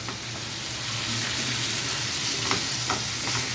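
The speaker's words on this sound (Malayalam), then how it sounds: "ഇപ്പം ഇടയ്ക്കിടയ്ക്ക് ഇങ്ങനെ ഇളക്കി കൊടുത്തുകൊണ്ടിരിക്കുക" Chicken sautéing in ghee gives a loud, continuous sizzle close by, with a few faint stirring scrapes breaking through now and then.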